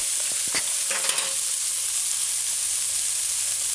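Hamburger patty frying in oil in a pan on a stovetop, a steady close sizzle and hiss with a few brief scraping clicks of a utensil working beneath it early on.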